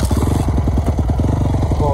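A cold 250 CRF dirt bike engine catches and runs with a loud, close, steady chugging idle that continues throughout, with no talking over it.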